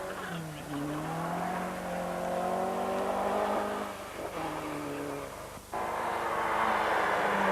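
A Ford Escort rally car on a 1988 Wicklow Rally stage brakes hard and revs, its engine droning loud and near with falling and rising pitch, a brief cut before surging again under commentary.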